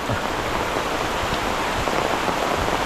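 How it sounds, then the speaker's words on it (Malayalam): Heavy monsoon rain pours down in Kerala, a dense, steady hiss of downpour that stays loud and unbroken throughout with no voices. "തകർപ്പം മഴ"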